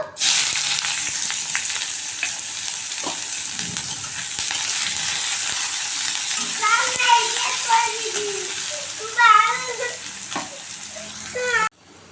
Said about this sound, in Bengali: জিরে ফোড়ন দেব, এবার পেঁয়াজ কুচিটা দিয়ে দেব।